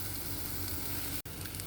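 Eggplant pieces sizzle in oil in a wok, a steady, soft frying crackle broken by a brief cut near the end, with no talk.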